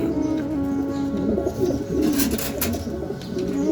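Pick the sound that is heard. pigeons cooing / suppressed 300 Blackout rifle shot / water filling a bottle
pigeons cooing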